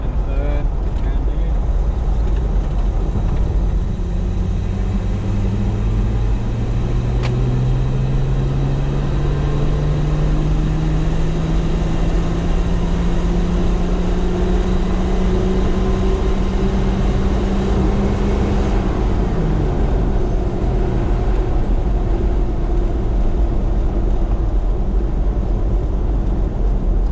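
A cammed TB42 engine pulls steadily up through the revs in third gear on a trail drive, its droning pitch rising gradually before dropping back, loud and close throughout.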